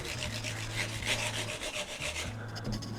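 Guitar fret ends are filed and smoothed, making close, steady back-and-forth rasping strokes in quick rhythm, with a low hum running underneath.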